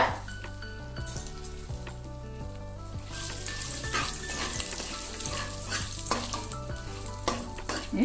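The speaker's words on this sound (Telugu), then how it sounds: "కొంచెం వేగనిద్దాము" Vegetables frying in a pan with garam masala and cashews, a continuous sizzle with stirring scrapes and occasional clinks of a spoon against the pan, under background music.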